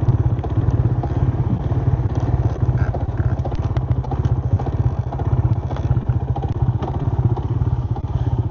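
A Yamaha LC135 motorcycle engine idles close by with a fast, steady thumping pulse, and an uneven clattering, knocking noise rattles through it.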